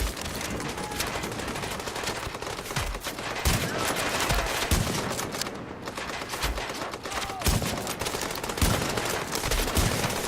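Gunfire in The Division video game during a Times Square legendary mission, sustained volleys and bursts of rapid shots layered over a dense, noisy battle din for ten seconds, fairly loud throughout.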